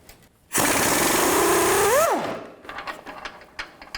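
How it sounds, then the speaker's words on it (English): Cross member bolts on a 2000-2006 Chevy Tahoe coming out with an 18mm socket on a power tool: a loud buzzing whir of about a second and a half that winds down, followed by quieter clinks and handling. "Use an 18mm wrench on the back right here, on the nut, and then on the bolt, 18mm socket."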